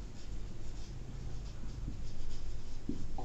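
Chalk or a marker writes on a classroom board with soft, faint scratching strokes over a low background hum.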